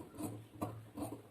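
Scissors slice through four stacked layers of cloth for a blouse back neckline, giving a soft rasping crunch in three short strokes at an even pace, close and quiet with no voices.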